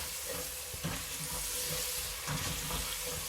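Chopped tomatoes and spices fry in a pan for a spinach-potato dish, giving a steady, close crackling sizzle with soft stirring scrapes and a few brief clinks throughout.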